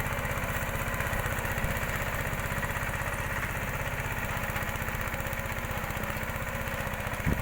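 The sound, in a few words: Steeltrac mini tractor engine running while ploughing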